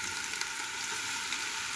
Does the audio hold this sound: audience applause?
no